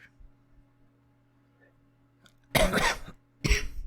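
Two harsh bursts of coughing, close and loud, after a stretch of near silence with a low hum underneath.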